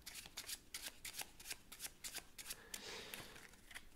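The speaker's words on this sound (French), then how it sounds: "Vous pouvez mélanger si vous voulez un petit peu les cartes." A deck of 52 playing cards is shuffled close by in quick riffling bursts, a rapid series of crisp flutters and snaps followed by a softer rustle.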